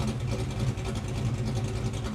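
A Fox-body car's engine idles steadily after back-to-back dyno pulls, a low, even rumble and a faint regular pulse, close by and unbroken.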